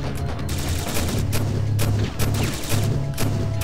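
Rapid gunfire in the action video game Syphon Filter: Logan's Shadow, a loud continuous fusillade of shots with sharp cracks over a heavy low rumble that lasts the whole moment.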